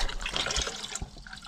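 Water running into a wheelie bin filled as a test tank for a Suzuki 2.5HP four-stroke outboard engine, a soft continuous splashing trickle with no talk.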